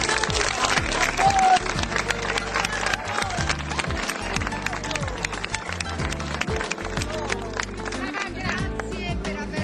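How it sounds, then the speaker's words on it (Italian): An outdoor crowd claps steadily for folk groups at the third Medio Campidano folk-group festival during the Santa Mariaquas feast in Sardara, 2007, with low droning music and voices running underneath. "Applausi."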